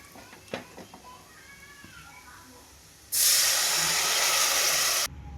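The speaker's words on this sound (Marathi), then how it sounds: "आता मी टाकणार आहे इथं उकळलेलं पाणी" Boiled water hits a hot pan of fried food with a sudden loud hiss that holds for about two seconds, then cuts off, after some quiet clinks and faint whines.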